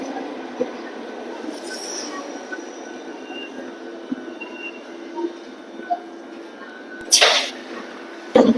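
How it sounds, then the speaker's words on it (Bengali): A metro train arrives at Omonia station in Athens with a steady underground rumble and rolling wheel noise. Near the end there is a brief louder burst of brake hiss and squeal. "তো ফাইনালি আমাদের মেট্রো আইসা পড়ছে।"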